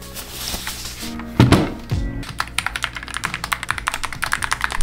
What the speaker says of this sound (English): this is the Qinglong ACCO Year of the Dragon keyboard with cream yellow